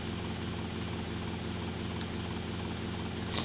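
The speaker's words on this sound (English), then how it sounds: "Nope, you've already got a replacement helicopter." A Maverick helicopter in a Grand Theft Auto game drones steadily with a constant rotor and engine hum, loud and continuous throughout.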